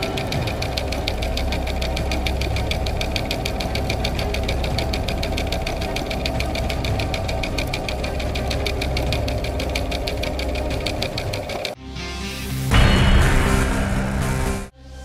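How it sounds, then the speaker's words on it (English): A sod cutter machine cutting turf runs with a steady, rapid, knocking engine chug for most of the stretch, then shifts to a louder, rougher burst of cutting and rumbling noise near the end before cutting off. "This machine can save you hours of hard work, as it cuts turf in precise curves or straight lines."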